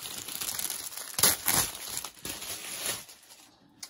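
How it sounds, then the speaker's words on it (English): A pouch pulled free of its plastic packaging, with close crinkling and rustling that swells into a couple of louder crackles before fading to quiet; no one speaks. "So here is the pouch. Let me take it out of this plastic."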